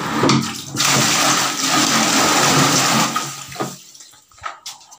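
Water gushes steadily into a bathing tub at home, a loud, continuous rushing pour that cuts off near the end and leaves a few faint drips and knocks.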